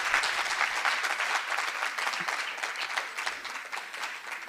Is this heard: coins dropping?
no